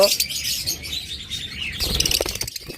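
Caged red-eye pet birds chirp in sharp, high bursts, several calls overlapping near the listener, with some fluttering and no clear talk.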